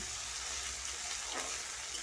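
Chopped onion hitting hot white oil already tempered with cumin seeds for a dal tadka, producing a steady, close, bright sizzle and hiss that continues without pause.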